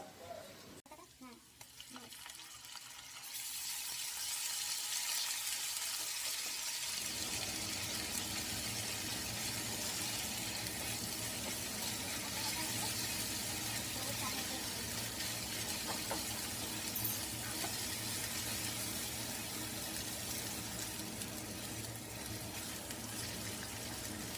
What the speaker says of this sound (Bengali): এবার দেখো পেঁয়াজটা দিয়ে একটু নাড়াচাড়া করছি পেঁয়াজ আর কাঁচা লঙ্কা ভাজা হয়ে গেছে